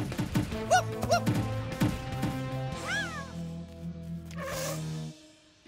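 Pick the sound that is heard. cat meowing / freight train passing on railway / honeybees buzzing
cat meowing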